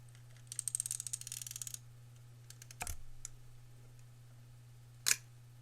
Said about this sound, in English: it does make a very nice click.